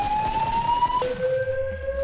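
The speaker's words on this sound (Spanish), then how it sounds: "¿por qué no se calla la puta sirena?" A blaring siren in the Killing Floor video game, wailing on a steady high tone before abruptly dropping to a lower pitch midway, continuous and loud with a background hum and no talk.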